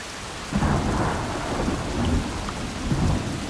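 Steady rain with rumbling thunder in the Desperados 3 video game, a continuous wash of rainfall with low rolls of thunder swelling in, loud and without voices.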